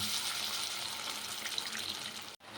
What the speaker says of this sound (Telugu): కాస్తంత వాటర్ని అయితే పోస్తున్నాను